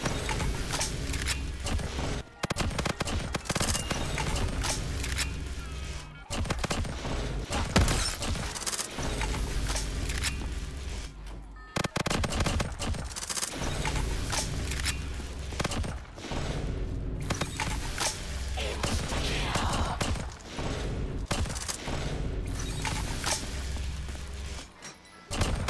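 Rapid AK rifle fire in Black Ops 3, in a Minecraft-style custom map, with dense, sustained bursts of clattering shots, brief pauses and a gap near the middle.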